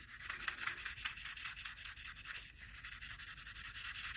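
A polymer clay pendant is sanded by hand with 400 grit sandpaper, giving a continuous close-up, gritty scraping with a fast, even back-and-forth rhythm and no voice.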